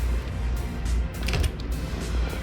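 A door fitted with a child lock being pulled and turned open, giving a continuous mechanical creaking and ratcheting with a few sharper clicks, close and fairly loud over a steady background hum.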